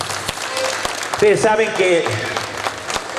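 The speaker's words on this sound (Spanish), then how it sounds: "quiero escuchar esos aplausos desde allá del fondo" Audience applause at a live show in Reconquista, Santa Fe, steady clapping running under a voice speaking Spanish over a PA.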